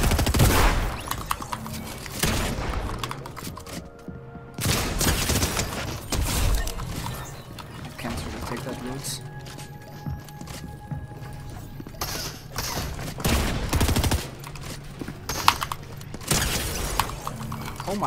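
Pistol gunfire in a solo arena shooter match, several scattered sharp shots mixed with mechanical clicks and clatter, with game effects and occasional voices around them.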